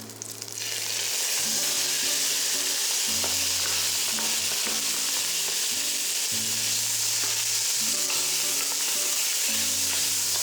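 Minced pork stir-fries in a hot pan for Mee Tai Bak, giving a loud, continuous sizzle that crackles steadily throughout, with a low steady hum beneath.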